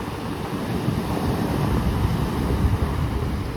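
Sea waves wash up on the shore in a continuous, rushing surge, mixed with wind buffeting the microphone. The sound stays loud and steady throughout, with no voices.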